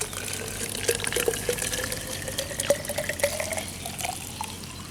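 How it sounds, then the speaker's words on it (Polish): Water from a store-bought bottle pours into an Isostar 650 ml plastic bike bottle in a steady close gurgle, its pitch rising as the bottle fills. "wlejemy sobie tutaj wody prosto z biedronki"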